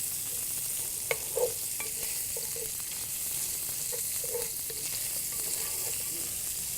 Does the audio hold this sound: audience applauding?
no